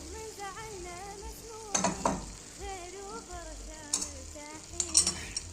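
Chicken dropped into a hot pan and stirred, bursts of loud sizzling and utensil scraping over softer frying, with a person humming or singing quietly nearby.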